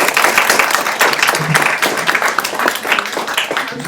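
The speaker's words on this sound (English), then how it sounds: "Another round of applause for Helen." Sustained, dense applause from a cafe audience at a poetry book launch, close and loud throughout with a faint murmur of voices mixed in.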